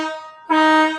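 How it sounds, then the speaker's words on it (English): A car horn honks twice near the TEEPEE Pavilion, a short blast, a brief dip, then a longer, louder steady blare, both bright and close with no talk over them. "You can hear the horn"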